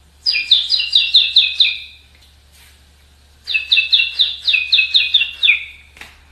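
A person whistles a bird imitation in two bursts of rapid, repeated high chirping trills, each lasting about one and a half seconds, separated by a short pause, close and fairly loud over a low steady hum.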